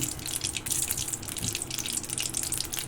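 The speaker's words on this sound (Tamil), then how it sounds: "கடுகு பொரிய ஆரம்பிச்சிருச்சு" Mustard seeds spluttering in hot oil for a tomato chutney, a dense, continuous crackle of tiny pops and sizzles heard up close with no talk.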